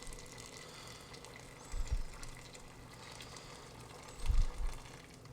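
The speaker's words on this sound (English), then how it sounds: "I'm gonna add some hot water to this." Hot water pours into a big pot of chicken stock that has simmered for four hours, a steady gushing rush close by with two heavier, deeper surges as the stream lands.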